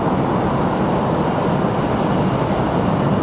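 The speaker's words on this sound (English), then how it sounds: "Nice smooth touchdown for the A319." An Airbus A319 touching down at Raleigh-Durham airport gives a loud, dense, continuous roar of engine and rushing noise with no distinct impacts or voices.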